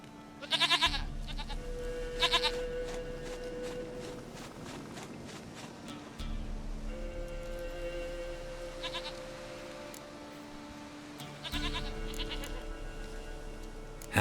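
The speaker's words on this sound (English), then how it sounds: "Goat of mine, dearest," A goat in The Witcher 3: Wild Hunt bleats in several separate bursts, close and fairly loud, over a low ambient drone with soft footsteps between calls.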